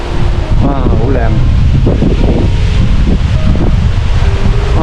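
Strong wind buffets the microphone outdoors by a river bridge in Canmore in the Canadian Rockies, a loud, constant low roar with a voice faintly audible beneath it.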